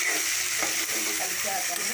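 Fish curry stirred in a frying pan, a steady dense sizzle of frying with scraping stir strokes running through it, close and continuous with no talk.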